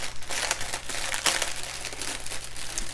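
Plastic resealable bags being handled while unboxing a craft kit, close crinkling and rustling in irregular bursts over a faint low hum.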